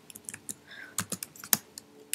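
Keys clack on a MacBook keyboard in a quick, irregular run of close, crisp typing taps with no talking.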